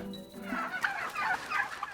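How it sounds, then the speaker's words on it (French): Gobbling from an Ardennes red turkey, a breed found only in the Ardennes, rising in a rapid rattling burst of several bubbling calls that fill the whole two seconds, close and fairly loud with no talk over it. "cette race de dinde qu'on ne trouve que dans les Ardennes"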